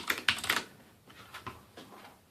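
Mechanical keyboard with clicky blue switches being typed on, a quick burst of sharp clacks followed by a few slower, softer keystrokes, close and without talk.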